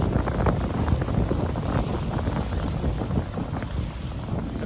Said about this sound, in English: And here comes the breeze.